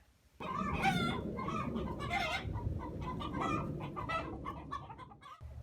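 Chickens at a coop cluck busily and close up, with overlapping calls and a crow among them, forming a dense, continuous flock chorus.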